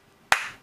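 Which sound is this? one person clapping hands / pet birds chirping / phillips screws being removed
one person clapping hands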